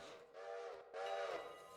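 A train whistle in the railroad game Railroader, two sustained tonal blasts, a short one and then a longer one, fairly quiet and heard alone.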